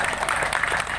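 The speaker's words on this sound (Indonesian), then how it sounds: "Tepuk tangan untuk saya dulu" A crowd at a village community meeting breaks into applause, a steady close patter of many hands clapping for about a second.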